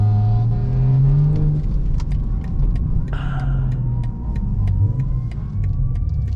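A BMW sedan engine rumbles loudly from inside the car, with a rising rev and short throttle blips over a steady low drone and faint clicks.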